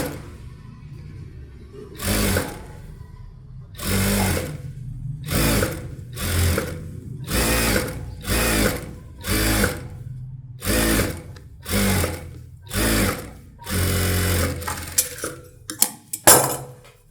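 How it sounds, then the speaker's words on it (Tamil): Sewing machine stitching around a blouse sleeve in bursts, about a dozen loud, close runs of mechanical whirring, each a second or so long, separated by quiet pauses, with no speech. "ஸ்லீவ் ரவுண்டு நான் ஸ்டிச் பண்ணுறேன்"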